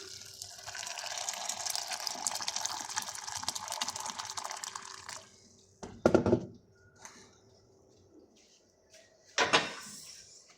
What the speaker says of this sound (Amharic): የፈላ ውሃ ጨምርበታለሁ